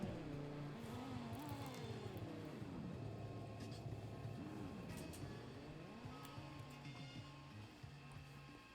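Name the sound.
car engine sound from a video game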